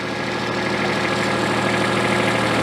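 A small tractor's engine idles with a steady, close, loud chugging rumble and an even knocking pulse, with no speech.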